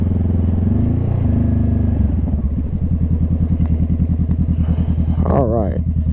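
A motorcycle rides around a campus, its engine a close, loud, rapid rhythmic thumping that settles into a steady pulse after a brief rev, with a short burst of speech near the end.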